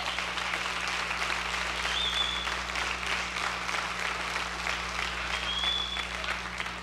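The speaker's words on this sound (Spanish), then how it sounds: "Yo pienso que eso se merece un aplauso al Señor." Steady applause from a church congregation during a sermon, a dense even wash of clapping that carries on throughout, moderately distant.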